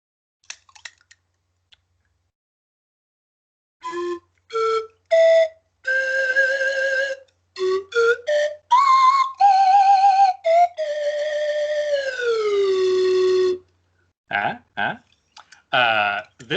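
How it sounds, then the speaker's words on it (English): An old slide whistle plays a series of short bursts and long gliding notes that swoop up and down, loud and close, separated by brief silences. "This slide whistle is very old, and don't worry, I don't really spit when I'm playing."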